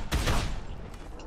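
A burst of gunfire in the zombie video game Dead Island: a loud, close volley of shots at the start that fades into a brief echoing tail.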